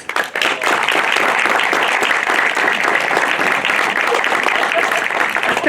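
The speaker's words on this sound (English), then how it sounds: "I definitely think they deserve a round of applause." An audience at a book launch gives a steady round of applause, dense clapping lasting the whole stretch at a fairly close, even level.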